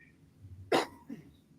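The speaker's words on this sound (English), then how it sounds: "Excuse my coughs." A single sharp cough comes close to the microphone, followed by a softer throat-clearing sound, in a quiet room.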